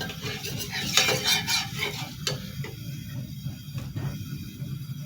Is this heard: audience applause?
no